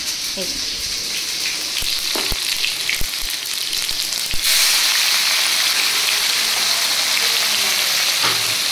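Shrimp frying in a pan give a steady, bright sizzle, with scattered crackles and pops early on before the frying swells louder and fuller partway through, close and continuous.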